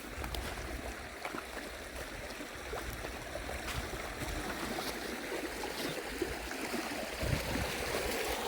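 A stream flowing steadily on a hillside walking trail at Talnotry in Scotland, a continuous broadband rush of running water that stays near and even throughout, with no voices.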